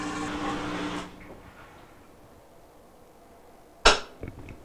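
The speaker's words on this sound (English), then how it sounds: "There it just clicked to engage into the spin by our shift mode shifter or actuator" A Whirlpool WTW5610XW3 top-load washer's shift actuator gives one sharp, loud click as it engages the spin cycle, then a couple of softer ticks, after a fading machine hum and a quiet stretch.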